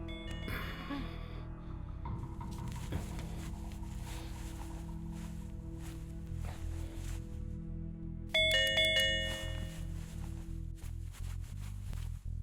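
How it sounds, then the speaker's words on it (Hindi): A home doorbell rings with a ding-dong chime several times, heard alone at moderate loudness, the later rings sharper and louder than the first. "तेरे घर ये कॉलिंग बेल बजाई, कोई दरवाजा नहीं खोला।"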